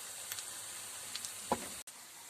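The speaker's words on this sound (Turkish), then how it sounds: "Evet, sosumu çorbamın içerisine ekliyorum." Hot mint sauce hitting yogurt bulgur soup gives a few faint, brief sizzling bursts with a quick splash, set close against quiet kitchen background.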